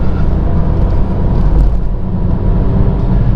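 A car pulling away in second gear on a public road, behind a blue car, with a loud steady engine and road rumble droning close throughout, no voices.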